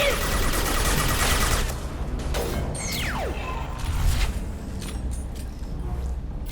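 Rifle fire in the video game Mass Effect 2: a dense burst of rapid shots at the start, then scattered impacts and mechanical clatter under a steady background.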